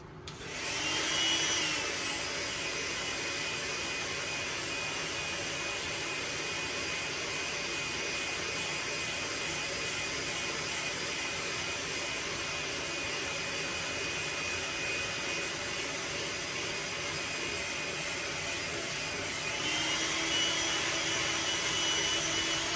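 A heat gun blows steadily and loudly on a freshly painted Magnum 8XD crankbait in a blueback herring scheme, a constant broadband roar that holds for about twenty seconds with a slight pitch shift near the end.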